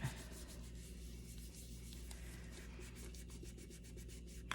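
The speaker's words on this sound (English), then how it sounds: "And we rub all of that paint off." Paint is rubbed off a reborn doll kit, a continuous soft scrubbing friction with faint repeated strokes over a low background hum, close and quiet, no talk.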